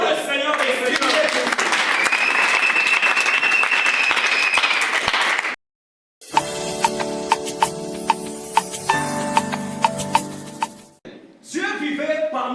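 A church congregation at a worship service bursts into loud, sustained applause for several seconds, followed after a short gap by music with rhythmic accents and then more clapping toward the end.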